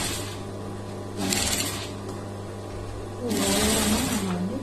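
A sewing machine stitches the folded hem of a lined blouse, running in two short bursts of rapid mechanical whirring with a steady low motor hum between them.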